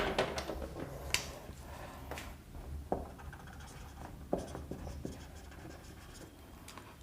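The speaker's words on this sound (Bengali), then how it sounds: "আমরা লিখি এখানে" Chalk or marker writing on a board during a grammar lesson, soft continuous scratching strokes with occasional sharper taps, faint and close with no talk over it.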